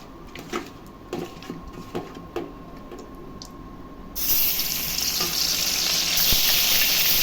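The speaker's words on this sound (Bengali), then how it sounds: "রুই মাছগুলো আগে ভেজে নিচ্ছি, লবণ হলদে মাখায় নিচ্ছি। এই কড়াই তেল দিয়ে দিচ্ছি।" Light clinks and taps at first, then a loud hissing sizzle bursts in as rohu fish coated in salt and turmeric hits hot oil in a wok and keeps crackling steadily.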